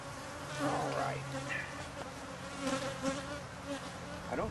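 Honey bees buzz around a beehive as a swarm comes in, a dense, close droning hum with individual bees swelling past, no voices.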